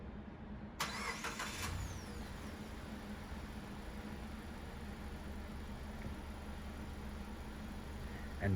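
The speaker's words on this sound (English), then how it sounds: "So in order for you to remote start your car using this key fob, is you just press the lock button 3 times" A Mazda car, started remotely from its factory key fob, cranks and catches in a short burst near the start, then settles into a steady, quiet idle that continues to the end.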